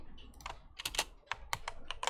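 Quick, uneven keystrokes clack on a computer keyboard, a short burst of close, crisp taps with small pauses between them.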